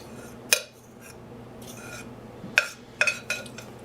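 Sugar cookie dough made with coconut oil being mixed in a bowl, with soft rubbing and stirring under a few sharp clinks of a utensil against the bowl, close and quiet.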